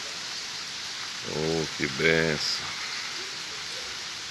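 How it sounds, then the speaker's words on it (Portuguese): Steady rain hisses down on a farm at sítio Cabeça Preta in Limoeiro do Norte, a constant close wash of sound, with someone briefly speaking over it. "Chuva aqui no sítio Cabeça Preta, em Limoeiro do Norte."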